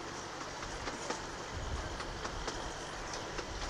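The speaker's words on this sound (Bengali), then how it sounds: "এই টয় ট্রেনে চেপে ফুলই মজা করছি" A toy train carrying riders runs through a mango grove, giving a quiet, steady rumble with light clickety-clack of wheels and faint intermittent taps, no voices.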